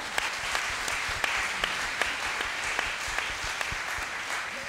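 Steady applause from a conference audience, dense clapping sustained throughout at moderate loudness, with a few sharper individual claps standing out.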